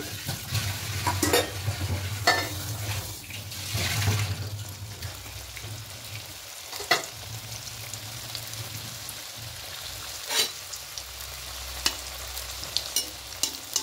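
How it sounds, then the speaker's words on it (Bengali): Leftover-roti singaras fry in hot white oil in a kadai, a steady close sizzle with scattered sharp pops and crackles throughout, no talking. "এবার কড়াইয়ে সাদা তেল দিবি, তেলটা হালকা একটু গরম হয়ে এসেছে। এবার এখানে দিয়ে দেব"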